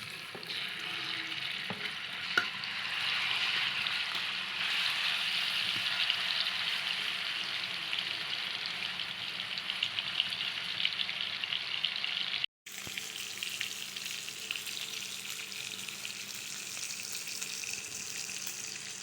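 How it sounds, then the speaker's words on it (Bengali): Marinated chicken meat fries in a pan with a loud, continuous hiss and bubbling, a sharp cut partway through, then a slightly lower sizzle; nobody talks. "মাংসগুলো ভেজে নেব"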